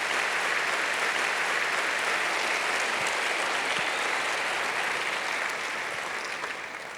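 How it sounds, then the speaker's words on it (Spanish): A church congregation applauds loudly during a sermon, a dense, sustained wash of clapping from many hands that holds steady for several seconds before easing slightly at the end. "Fuerte ese aplauso a Jesús."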